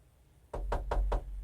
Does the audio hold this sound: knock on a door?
yes